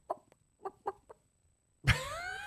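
A chicken clucks in a few short, close bursts, followed after a pause by a louder drawn-out squawk with a ringing, tonal tail.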